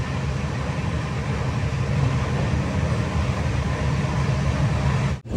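The Vivek Express, a Kanniyakumari to Dibrugarh train, runs at speed on the tracks with a steady, loud low rumble and rattle that holds throughout and cuts off abruptly at the end.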